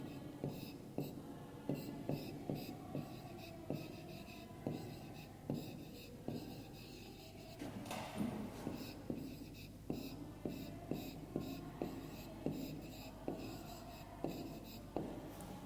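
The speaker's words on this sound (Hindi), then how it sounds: "यहाँ पे हम लिखेंगे महात्मा गांधी, महात्मा गांधी" A pen or pencil writes names onto a school worksheet, giving soft, close scratching strokes in short regular bursts with faint whispery sounds.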